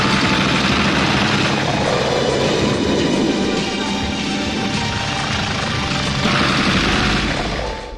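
A helicopter flies in pursuit of a fleeing thug near woods, its loud, dense roar steady and close, mixed with rattling bursts like gunfire, with no pause throughout.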